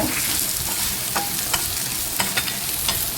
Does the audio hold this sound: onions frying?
yes